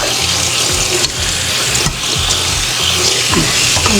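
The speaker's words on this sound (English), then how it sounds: "It's time for me to rinse them off." Soaked red beans rinsed under a running kitchen tap, with a loud, continuous rush of water splashing and gurgling nearby throughout.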